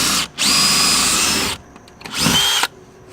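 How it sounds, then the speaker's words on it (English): A power drill whines loudly in two bursts, drilling out a fastener during speaker removal on a 2018 Volkswagen Tiguan, the first longer, spinning up and stopping with a short pause between. "let me just drill this out real quick"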